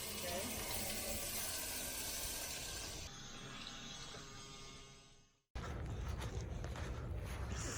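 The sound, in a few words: shower water running in an ambulance expedition vehicle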